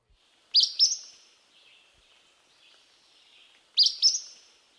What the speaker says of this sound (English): like the Acadian flycatcher